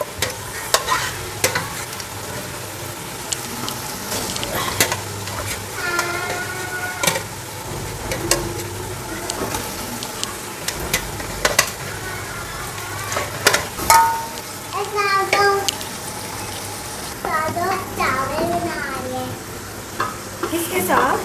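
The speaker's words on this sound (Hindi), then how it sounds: "गोश्त डालने लगी, ये इसकी भुनाई होगी अब।" Mutton pieces frying in ghee with spices for pulao, with a steady sizzle broken by repeated scraping stirs of a spoon against the pot, close and fairly loud, with no talking.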